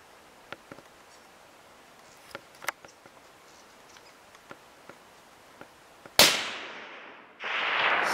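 A single sharp, loud rifle shot cracks out at a sambar stag during a hunt, followed by a brief echoing tail and then a second rush of noise. Faint ticks and rustles come before it in a quiet setting.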